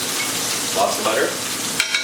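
Butter melting in a hot pan with steak: a loud, close, continuous crackling sizzle that holds steady for about two seconds.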